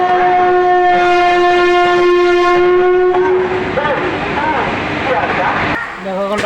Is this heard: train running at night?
yes